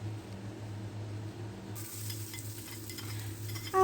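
Onion and garlic sauté until golden brown in a pan for a shrimp dish, a quiet steady sizzle broken by soft stirring scrapes and a faint clink near the end.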